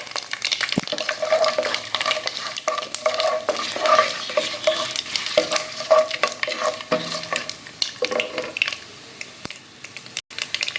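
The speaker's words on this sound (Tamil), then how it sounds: "கடுகு அப்படியே பொரியும் போதே இந்த முந்திரி பருப்பு, பிரிஞ்சி எல்லாம் எல்லாத்தையும் சேர்த்துலாம்." Mustard seeds spluttering in hot oil as cashews and bay leaf are added for wheat rava kichadi, a busy crackling sizzle with irregular pops and stirring clatter throughout, close and moderately loud.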